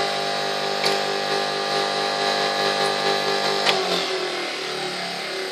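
A soy milk making machine runs with a steady, even mechanical hum and whine, a couple of faint clicks over it, before it is switched off and the motor tone drops away near the end.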